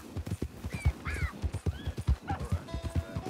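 Wild horses in Red Dead Online, hooves clopping steadily and close while several whinnies and neighs rise over the top.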